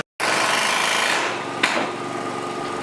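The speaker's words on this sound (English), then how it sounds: "That sound is a palm nailer." Air-driven palm nailer driving nails into roof rafter hangers during framing on a house construction site. A loud, continuous rapid hammering buzz is heard, with one sharp hit near the middle.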